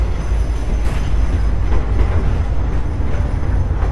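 Steady rumble and rattle inside a moving narrow gauge passenger coach fitted with sleeper berths, with continuous low wheel-on-rail roar and faint clatter throughout, no voices.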